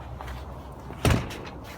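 A house door shuts or bumps once with a short, solid thud, heard close against a quiet background hum.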